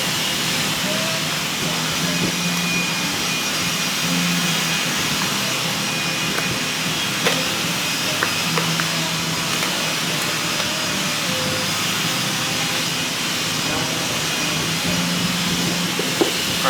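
Compressed air blowing debris out of a workpiece during hinge work, a continuous broad hissing rush that stays steady throughout, with faint clicks and shop noise beneath.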